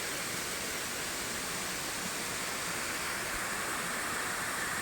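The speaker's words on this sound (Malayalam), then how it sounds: "ചെറിയ വെള്ളച്ചാട്ടത്തിൻ്റെ സൗണ്ട് നിങ്ങൾക്കിപ്പോൾ കേൾക്കാമായിരിക്കും" A small waterfall in a stream at Aruvikkuzhi, Kuriyannoor, Pathanamthitta district, Kerala, gives a steady, even rush of falling water that holds unchanged throughout, with no voices.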